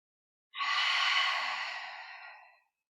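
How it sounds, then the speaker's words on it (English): A single long exhale during a core-focused yoga flow, rising quickly and trailing off softly over about two seconds, breathy and close with no talking. "One more breath on this side."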